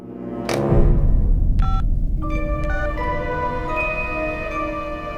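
A borrowed telephone is dialed, a run of distinct keypad tones beeping one after another over a steady room hum after a brief thump, with no talking.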